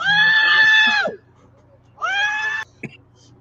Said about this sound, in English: The screaming in the background.